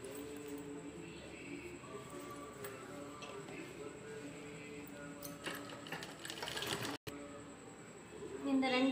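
Sewing machine stitching triangular pieces of a jute shopping bag, a steady mechanical running whir with ticking needle rhythm throughout, briefly stopping near the end, with light background noise.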